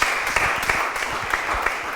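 Audience applause at a veterans resource event, a broadband patter of many hands with a few louder individual claps, steady and moderately distant throughout.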